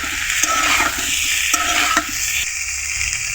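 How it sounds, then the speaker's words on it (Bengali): Okra frying over low heat in a pan, slowly stirred, with a constant bright sizzle broken by a few sharp spatula scrapes and knocks against the pan. "হালকা তাপে এভাবে আস্তে আস্তে নেড়ে নেড়ে ঢ্যাঁড়সগুলোকে ভেজে নিতে হবে"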